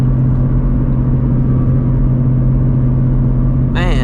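A straight-piped Shelby GT350 rumbles loudly and steadily while driving through the city at night, a deep continuous exhaust drone that ends with a brief high chirping squeal.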